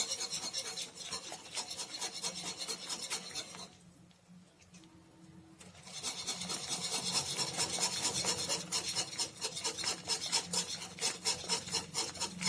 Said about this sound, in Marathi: आता टाकायचं आपल्याला थोडं थोडं बेसन टाकायचंय, जास्त टाकायचं नाही. आणि असं फिरवून घ्यायचंय.